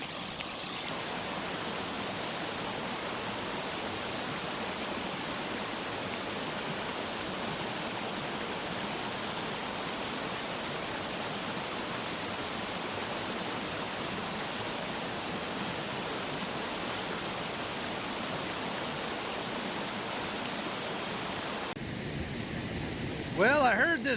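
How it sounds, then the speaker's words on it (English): A large waterfall rushing across a woodland creek, a steady, dense roar of falling water that continues evenly for the whole stretch, with a brief handling noise near the end. "I heard this giant rushing sound over here from the creek"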